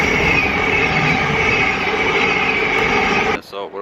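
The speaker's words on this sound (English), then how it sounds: "There's one train coming." A train pulls into a London Blackfriars platform, a loud, continuous rumble of wheels on rails with a high metallic squeal, close and steady before it abruptly drops away near the end.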